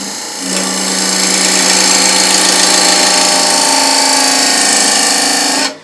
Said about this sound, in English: with the parting tool I'm just going to make a reference point there